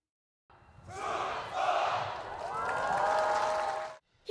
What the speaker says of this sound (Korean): 힘찬 소리로 경례를 하자 축하의 함성이 터져나옵니다.